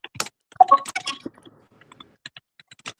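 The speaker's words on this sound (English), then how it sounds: "Can hear you typing a little bit." Quick, irregular clicks of computer keyboard typing come through a call in short bursts with pauses between them, fairly close and sharp.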